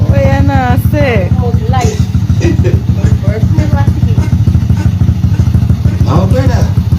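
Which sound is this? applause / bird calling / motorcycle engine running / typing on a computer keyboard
motorcycle engine running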